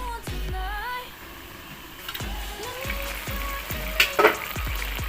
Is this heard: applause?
no